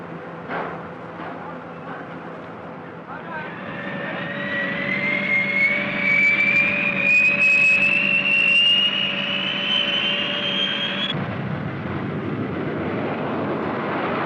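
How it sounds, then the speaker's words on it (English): Jet engines of a B-58 bomber aircraft in a 1958 nuclear war documentary, a steady roar that swells with a rising whine, then drops to a lower rumble near the end. "Also part of this massive strike force is the B-58."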